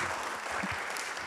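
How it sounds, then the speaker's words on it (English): A live audience at a political awards event claps in a steady, dense round of applause, loud and continuous through the moment with no voices on top. "some round of applause"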